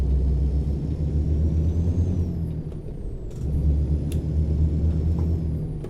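Kenworth T600 truck engine in American Truck Simulator over-revving, a loud steady low diesel drone with a brief dip in the middle before it climbs back, no talk over it.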